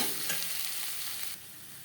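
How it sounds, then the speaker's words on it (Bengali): Mashed boiled potato is stirred with spices in a hot pan, with a brief, soft scraping against a constant low sizzle. "মশলার সাথে আলু বেশ ভালো করে মিক্স করে দেয়।"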